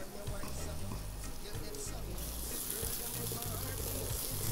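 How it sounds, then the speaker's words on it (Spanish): Chopped onion fries in a pan with a broad, hissing sizzle that grows louder partway through. A person talks over it the whole time. "Ahí se está friendo un poquito la cebolla"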